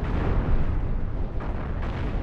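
Deck cannons firing in the space-ship game Cosmoteer, a dense rumbling barrage of booming blasts that runs without pause, loud and low, with a couple of sharper bursts near the end.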